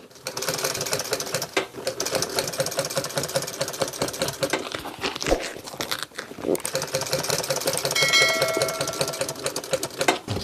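A sewing machine stitches car seat upholstery for a 1966 Ford Galaxy in close, rapid mechanical bursts that stop and start. People talk over the stitching.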